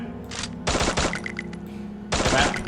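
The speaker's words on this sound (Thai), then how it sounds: "ทุกคนเห็นกระสุนที่ผมยิงไหม" Rapid bursts of gunfire ring out in the Free Fire mobile shooter, a short volley followed by a longer rattling string of shots and another burst near the end.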